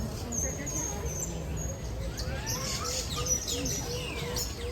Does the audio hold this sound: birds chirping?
yes